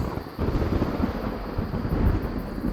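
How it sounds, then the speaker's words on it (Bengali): Cartoon sound effect of thunder during heavy rain: a continuous loud, deep rumbling roar with a dense hiss of rainfall, close and unbroken, with no voices. "শুরু হয়ে গেল ভীষণ বৃষ্টি ও কান ফাটানো মেঘের গর্জন"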